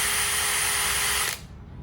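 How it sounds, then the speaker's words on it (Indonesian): A handheld power drill fitted with a pesticide-mixing paddle whirs at a loud, steady pitch, then cuts off abruptly near the end, leaving a fading spin-down. "Ini alat pengaduk pestisida digabungkan dengan bor tangan."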